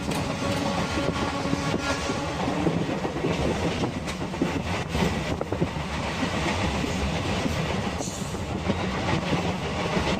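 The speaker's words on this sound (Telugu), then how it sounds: "ట్రైన్ మస్తు స్పీడ్ పోతుంది." A fast-moving train on the Srinagar to Baramulla line, heard from inside: a steady, loud rumble with clattering wheels runs unbroken throughout, with no talking.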